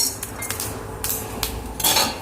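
Raw rice poured into a hot pan for dry roasting, a close, bright rattling clatter of grains striking metal in quick scattered bursts that grows louder toward the end.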